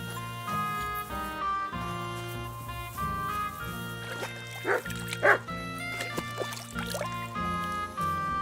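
In Kingdom Come: Deliverance II, a dog gives a couple of short barks midway through, set against a steady bed of tonal game music.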